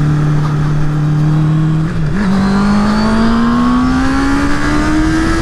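A 2019 Honda CB650R motorcycle engine roars close by, its pitch climbing steadily as it accelerates hard after a brief dip.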